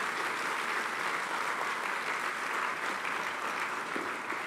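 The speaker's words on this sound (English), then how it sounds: "performance certainly deserves another round of applause" An audience at a university induction ceremony for a new campus principal applauds after a performance, a dense, steady wash of many hands clapping at an even level, slightly distant, with no break.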